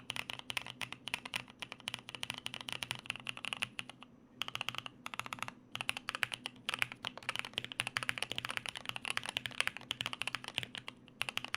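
Continuous fast typing on a prototype JP-02 mechanical keyboard fitted with tactile switches: dense, close clacky keystrokes with short pauses around four and five seconds, no talking.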